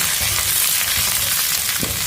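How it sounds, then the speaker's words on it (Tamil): Garlic and pirandai (adamant creeper) sauté in a hot pan, a steady close sizzle and crackle running throughout with a faint scrape of stirring near the end. "இதையும் அதோட சேர்த்து வதக்கிடுவோம்."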